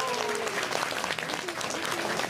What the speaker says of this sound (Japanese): みんな拍手をください。